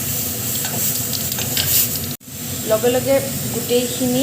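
Dry cumin seeds and dry red chillies sizzle and crackle steadily in hot oil, interrupted by a brief gap midway, while stirring clinks sound and someone speaks over the frying.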